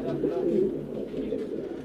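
Low, throaty cooing from qasid pigeons rolls on close by in a short continuous stretch, with no voices present.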